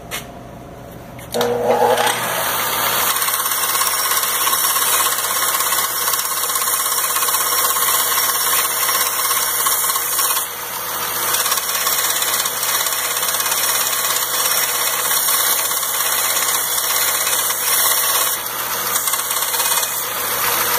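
A blade sander grinds debris off the edge of a copper moonshine still body section with a steady, loud, continuous whirring hiss that runs almost unbroken for about eighteen seconds after a brief quieter start.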